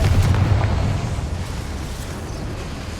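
A Confringo fire spell explodes in Hogwarts Legacy, a loud, heavy boom that hits at once and then rolls on as a long, low rumbling decay with no voices.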